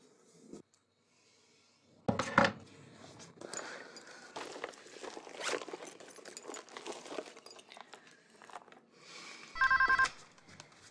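A telephone rings in short bursts, once early and again near the end, amid nearby footsteps and rustling movement indoors.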